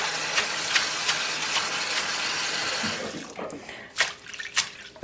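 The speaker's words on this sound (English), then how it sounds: "Okay, so now you can kind of see my water level rising." Tap water pours steadily into a kitchen sink being filled to wash parsley, a continuous rushing stream that cuts off midway, followed by a few soft sloshes and drips.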